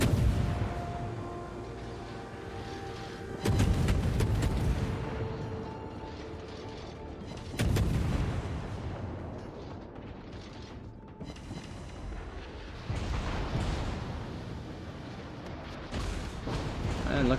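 Rapid volleys of secondary gunfire from a US Navy Tier 9 premium destroyer battle in World of Warships, with repeated booming blasts, mechanical rattling and a voice speaking over the action.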